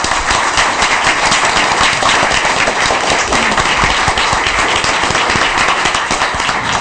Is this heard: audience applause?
yes